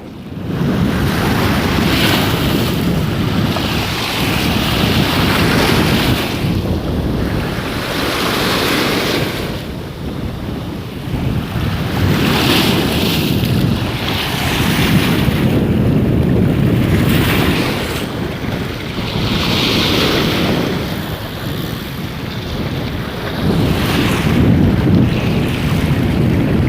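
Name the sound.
sea waves along Bang Pu seaside road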